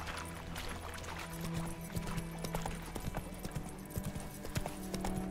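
Horse hooves clip-clop at a steady trotting rhythm in The Witcher 3 video game, moderately loud and close, over a low ambient game backdrop with no talk.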